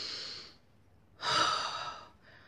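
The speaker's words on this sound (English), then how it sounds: "Motherhood is taking a really deep breath in" A deep breath drawn in through the mouth, a soft airy hiss that fades, then after a short pause a louder, longer intake or sigh rising sharply and tapering off, close and alone with no talk.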